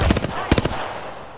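Enemy gunfire in the video game Apex Legends: loud, rapid automatic bursts up close, one volley at the start and a second sharp cluster of shots shortly after, then fading into a lingering rumble.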